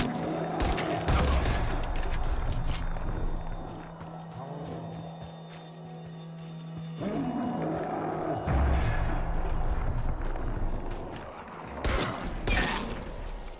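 Gunfire in Dying Light: The Beast, several sharp, loud shots in separate bursts against game ambience and a low hum.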